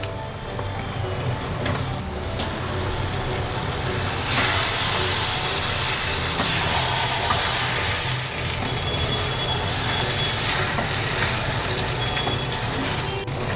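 Marinated chicken goes into a pan of hot oil and spiced masala, setting off a loud, rain-like sizzling hiss that swells for a few seconds, then settles into a steady close frying noise without speech.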